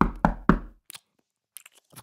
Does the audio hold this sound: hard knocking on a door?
yes